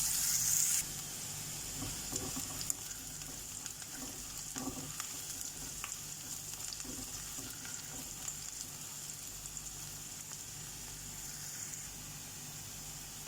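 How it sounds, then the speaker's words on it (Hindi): Onions frying in a pan until soft and starting to brown, a steady close sizzle with occasional stirring scrapes and crackles, with no talk. "अब इसे फ्राई करना है, ओनियन हमारा सॉफ्ट होने तक"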